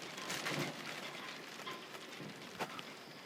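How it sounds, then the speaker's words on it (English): Rain falls steadily during a storm aboard a sailboat, a soft continuous hiss with a few louder drips and patters close by, and no one talking. "Rain."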